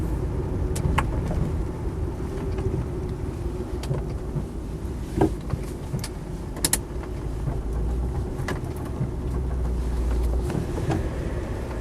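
Land Rover 90 County Station Wagon with a V8 engine and 123,000 miles, driving along with a steady engine rumble inside the cab, plus scattered rattles and clicks.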